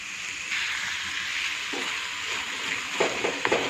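Capsicum and paneer sauté in a hot pan on a steady close sizzle, with brief scraping stirs near the end.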